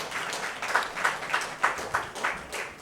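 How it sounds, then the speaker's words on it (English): An audience at a community honorees' event claps in a steady, fairly dense burst of applause with rhythmic peaks, heard from within the room. "So please give him a big round of applause again."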